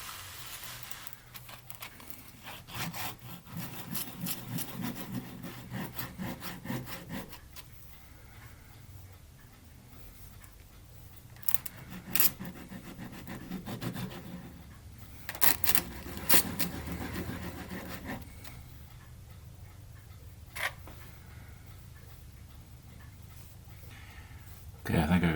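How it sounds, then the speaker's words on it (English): Sandpaper of 150 grit rubs back and forth on the wooden hull of a model ship in a steady scratchy rasp, with brief pauses and some handling knocks. "This is just 150 grit sandpaper. I'll just try and get it evened out here a little bit."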